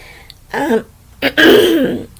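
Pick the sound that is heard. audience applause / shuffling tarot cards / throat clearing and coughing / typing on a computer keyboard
throat clearing and coughing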